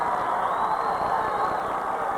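High school wrestling crowd at a 1999 PIAA AAA championship match, a dense roar of cheering and shouting from a packed gym, loud and sustained across the whole moment.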